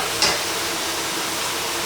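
Chopped onions frying with browned beef in a pan for a cheesy beef and potato pasta bake, a steady close sizzle with one brief scrape of stirring early on.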